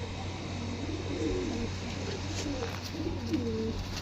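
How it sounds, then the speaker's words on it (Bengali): Several soft, throaty coos come from adult pigeons kept in a netted loft in Howrah, repeating through the moment against a low steady hum. "দুর্দান্ত পায়রা একটা।"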